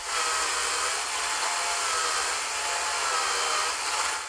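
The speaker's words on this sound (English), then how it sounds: "I think this chainsaw should start sweating slowly, but as you can see, it's making excellent cutting progress here as well" A DeWalt DCMCS575 54V/60V cordless chainsaw cuts through a 290 mm tree trunk, giving a steady, loud, continuous high-pitched whine with no speech over it.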